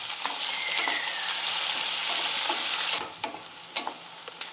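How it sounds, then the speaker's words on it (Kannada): Chopped onions sizzling in a hot oil tempering with curry leaves for avalakki, a dense steady frying hiss with scraping stirs, quieting near the end to separate spoon strokes. "ಇದು ಉಳ್ಳಾಗಡ್ಡಿನೂ ಚಲೋ ಹೊತ್ತಿಗೆ ಫ್ರೈ ಆಗಬೇಕು."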